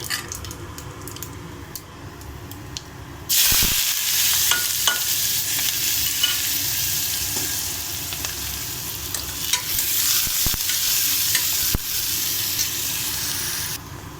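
Onion and green chillies hit hot oil in a pan for a broad bean curry, and the sizzle jumps to a loud, dense hiss that holds steady under occasional stirring clicks and scrapes.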